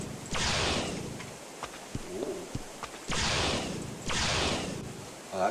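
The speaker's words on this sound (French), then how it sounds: "quand on tire, ça fait un bruit." A video game shooting sound effect: three loud, broad, hissing blasts about a second apart in the second half, with sharp clicks and small taps in the gaps between the first two.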